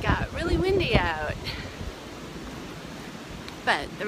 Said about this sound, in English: It got really windy out,